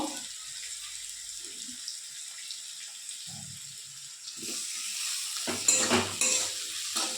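Tomato fries in a pan of oil with onion and spices, a faint, sparse sizzle at first that swells into a louder, steady crackle partway through as it is stirred.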